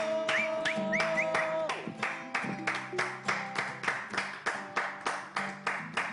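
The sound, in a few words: studio audience applauding the guests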